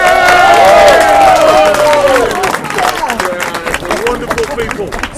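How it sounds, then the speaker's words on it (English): Wedding guests break into applause and cheering after a toast, a dense, loud burst of clapping that starts strong and gradually thins out over a few seconds, with a voice heard over it at the start. "Give yourselves a round of applause."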